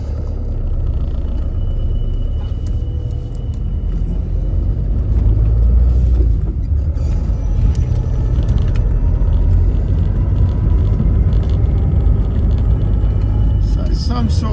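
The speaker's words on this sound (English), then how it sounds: "There's people all on the side of the road, drag racing, all sorts of shit." Cars rumble at a roadside car meet where people drag race along the road, a continuous heavy low drone of engines with surges in loudness, under someone talking.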